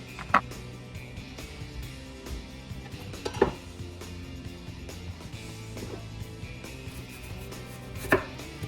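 A knife slices half an onion as thinly as possible on a cutting board while preparing tinga for tostadas, giving a few sharp separate taps against a steady low kitchen background, with no one talking.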